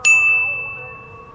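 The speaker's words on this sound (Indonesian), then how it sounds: "nyalakan lonceng notifikasinya." A single bright ding rings out clearly, then its tone lingers and slowly fades.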